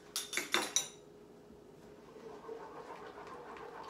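Utensil clinks and scrapes against a pot as a wine vinegar mixture is stirred into a roux for cod au gratin, a few sharp knocks at first and then a soft, steady stirring hiss.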